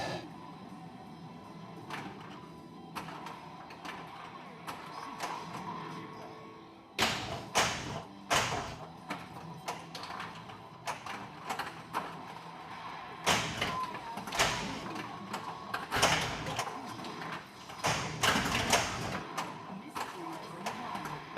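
An Iron Maiden 2018 pinball machine in play, with irregular thumps, taps and sharp clacks of flippers and ball hits over a low electronic hum, the action growing busier after the first several seconds.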